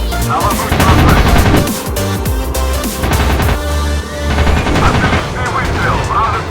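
Aircraft machine guns fire in a Soviet air-combat video game, rapid loud bursts and booms layered over engine drone, with radio-style voice lines spoken between the volleys.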